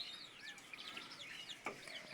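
Two native (deshi) chicks wander on a rabbit and poultry farm, giving thin, high repeated peeps and soft chirps, close and fairly quiet against a light background hiss.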